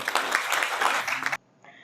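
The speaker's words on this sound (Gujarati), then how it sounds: "આ સંસ્થા માટે એક જોરદાર તાળી થઈ જાય" An audience applauds an organization at a local community event in Ankleshwar, with dense, loud clapping for over a second before it cuts off sharply into near silence.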